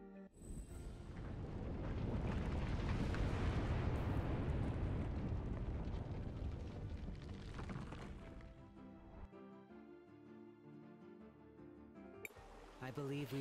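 Ancient ruins rising to the surface in Cris Tales: a deep, swelling rumble and roar that builds over several seconds, then fades into a gentle musical shimmer and tones.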